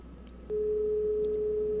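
A phone line in the video game Darkness Within gives a steady, unbroken electronic tone, close and clear, as the call goes unanswered.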